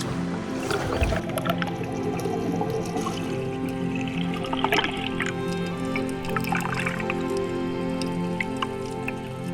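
Snorkeling over a seabed where bubbles rise from the ground, giving a continuous underwater wash of fizzing, popping and dripping textures with occasional louder bursts, and no speech.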